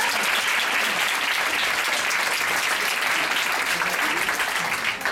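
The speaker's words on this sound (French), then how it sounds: "applaudissez-la." Steady, dense applause from a crowd, loud and sustained without a break, with a few voices faintly mixed in.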